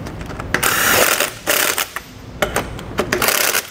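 Lug nuts tightened on a trailer wheel with a tool, heard as loud, close mechanical whirring and ratcheting in several bursts separated by brief pauses.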